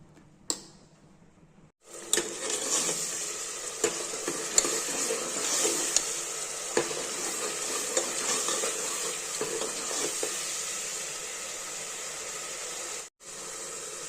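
Ground coconut masala paste, tipped into hot oil for a cabbage and chana dal curry, sizzles and crackles steadily after a brief quiet start, with ladle stirring scrapes and small ticks; no one talks over it.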